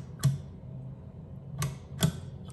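A bathroom sink drain stopper under a brushed gold faucet is clicked, giving three sharp, close mechanical clicks spaced irregularly over a quiet background.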